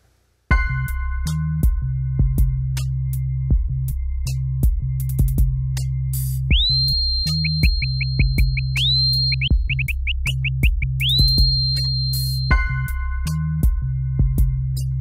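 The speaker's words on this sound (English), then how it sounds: "let's have a listen to what the beat sounds like this time" An MPC Renaissance drum machine beat with steady thumping kicks and crisp hits, overlaid with synthetic tonal chirps and sweeping electronic tones.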